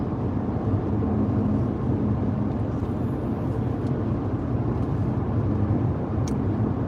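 Steady, loud road rumble and low engine drone from a car driving, continuous and unchanging throughout, with no talk heard.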